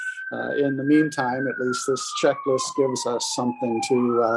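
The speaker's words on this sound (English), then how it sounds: "Sorry for the siren." Passing emergency siren in San Francisco, a steady wail sliding slowly downward in pitch, heard under a person speaking continuously.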